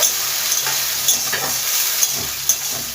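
Halved eggplant pieces frying in oil make a steady, loud sizzle with faint stirring clicks throughout, no voices.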